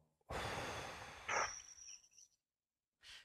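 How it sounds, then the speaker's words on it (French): A person takes one long deep breath in and out, close and fairly quiet, followed by a brief pause and a short further exhale. "Une respiration."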